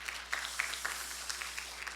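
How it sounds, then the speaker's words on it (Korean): A congregation applauds at a missionary cemetery gathering, a fairly faint, loose patter of clapping hands with scattered sharper claps rising above a soft steady wash. "박수 한번 부탁합니다"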